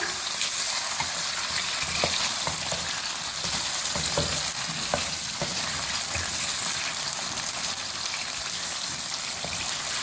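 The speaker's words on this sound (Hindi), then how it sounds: "इसको फ्राई करेंगे हल्का सा।" Chicken pieces fry lightly in oil in a pan, producing a loud, continuous hiss and crackle like steady rain, with small pops scattered throughout.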